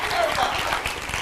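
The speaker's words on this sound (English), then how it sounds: "you can clap, it's okay, it's church." Church congregation breaks into applause, a dense short burst of clapping lasting about a second, loud and close.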